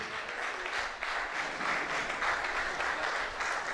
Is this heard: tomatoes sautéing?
no